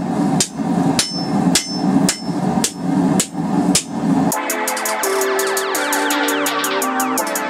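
Hammer blows on a fleshing knife blank being smoothed and flattened at a forge: about eight loud, evenly spaced strikes, then a bright ringing metallic shimmer that carries on steadily to the end.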